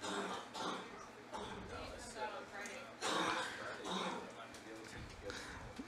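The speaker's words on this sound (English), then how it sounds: "coughing up a lung" Someone coughs repeatedly in bursts during a Star Wars X-Wing tournament final in Bloomington, Illinois, mixed with a noisy background of talking crowd.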